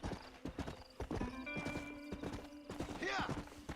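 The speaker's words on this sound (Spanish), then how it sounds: "¡Corre, caballito! Vas para allá." Horse hooves clip-clop at a gallop in the Western video game Red Dead Redemption, with the horse whinnying near the end. Someone talks excitedly over the steady hoofbeats, urging the horse on.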